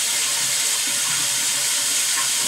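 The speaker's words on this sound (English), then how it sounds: "So the water is actually moving through this pretty quickly, and it's flushing all the excess salt out of the system" Water rushing steadily through a home water softener's resin tank during a flush cycle that clears out excess salt, a constant close hiss of flowing water with no pauses.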